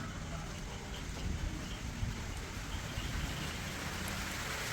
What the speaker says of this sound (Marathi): पाऊस आलेला आहे चांगलाच